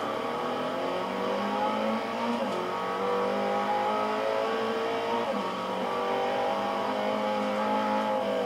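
A Mitsubishi Colt accelerates in the racing game Forza 4, its engine whining steadily upward through the gears with brief dips at each shift, a continuous moderate drone with no talking.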